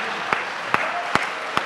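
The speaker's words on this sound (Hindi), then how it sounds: "ताली" An audience applauds at a Hindi comedy poetry show (hasya kavi sammelan). The clapping is steady and close, with a few sharper claps standing out at roughly regular intervals.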